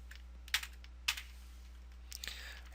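A few quiet, isolated key taps on a computer keyboard, a couple of single strokes then a short burst near the end, over a low steady hum.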